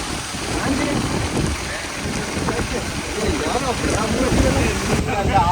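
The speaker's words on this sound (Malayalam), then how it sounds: "കാറ്റാണ് കാറ്റ്" Wind gusts through a forest during a rainstorm, a constant rumbling roar buffeting the microphone while people talk close by.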